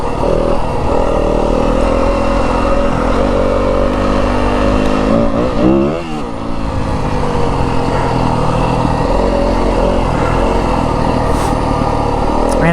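Yamaha WR250F dirt bike from 2025 ridden solo on a rough Arizona desert trail, its four-stroke engine droning loud and steady close by with wind noise, easing briefly mid-ride before carrying on at constant throttle.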